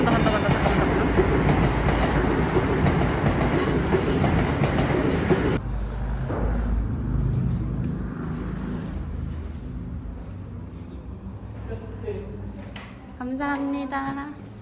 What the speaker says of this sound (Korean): 열차가 안 지나고 간다 잠깐만.